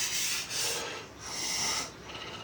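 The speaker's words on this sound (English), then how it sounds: "So you might have to go over and sand it again." Sandpaper rubbed back and forth over a surface for a DIY garden project, three long rasping strokes with brief pauses between them, close and fairly loud, with no talking.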